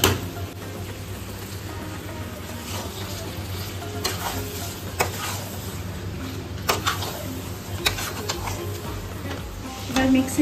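Ground spice paste goes into frying meat over a high flame. A loud, close sizzle runs throughout while a spoon scrapes and stirs the pan in repeated strokes, with occasional clinks of metal.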